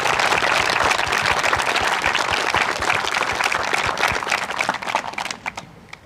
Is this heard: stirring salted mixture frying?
no